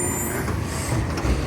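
A McNeillus ZR garbage truck hums with a deep, steady engine rumble, loud and close, while a faint high whine rides over it.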